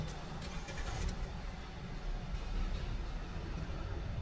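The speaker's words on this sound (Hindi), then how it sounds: "तो अभी गाड़ी चली है" A Mahindra car's engine starts up and the car pulls away at the start of a road trip, a steady low rumble that swells gently, heard from inside at a moderate level with no talking.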